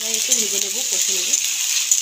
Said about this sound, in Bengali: একটু ভেজে নেব, কষে নেব।